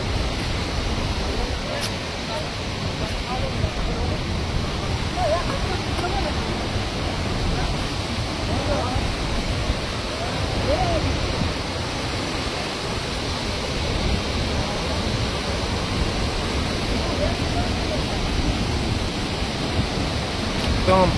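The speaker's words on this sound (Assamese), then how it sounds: "একদম পানীবোৰ উৰি আহিছে বৰষুণ দি থকা নিচিনাকে" Fast-flowing river current near Tawang throwing up spray like falling rain, a steady, dense rush of water noise holding constant and close for the whole stretch, with no clear voices above it.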